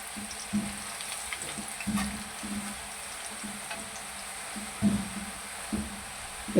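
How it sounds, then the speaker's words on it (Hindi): Homemade namak paray dough pieces frying in hot oil, a soft steady sizzle with occasional louder bubbling pops and faint stirring knocks, close but quiet. "इसको आपने अच्छी तरीके से फ्राई कर लेना"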